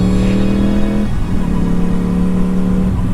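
A Yamaha R1 sport motorcycle accelerates on the road toward Murree, its engine note climbing loud and close, dipping briefly after about a second as the gear changes, then pulling hard again.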